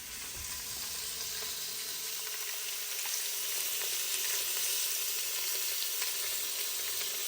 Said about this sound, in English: That's sizzling up.